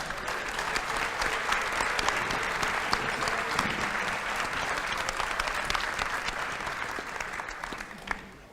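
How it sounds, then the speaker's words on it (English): A large assembly of high school students, standing on bleachers in a school gym, applauds a judge with sustained, dense clapping that fills the whole stretch at steady volume, with scattered cheers mixed in. "Why don't everybody stand up and give Judge Vasquez a round of applause"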